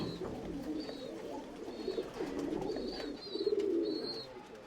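Tumbler pigeons in a loft in Bangalore give low, throaty, rolling coos that overlap and swell, heard close, with faint higher chirps now and then.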